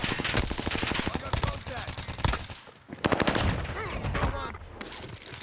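Shotgun fire in Call of Duty Warzone, a dense run of loud rapid gunshots with a short pause before more firing, close and busy, with people talking over it.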